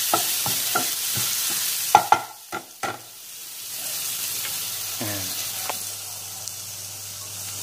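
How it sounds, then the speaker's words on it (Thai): Chili is stir-fried in a pan for spaghetti stir-fry, with a run of sharp spatula scrapes and clacks giving way to a steady, close sizzle. "ผัดให้หอมนะครับผมผัดให้มันหอม"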